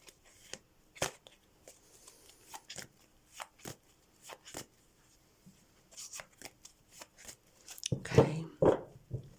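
Tarot cards being shuffled by hand, a series of crisp irregular riffling and flicking bursts with quiet gaps, ending in a denser, louder flurry of card handling.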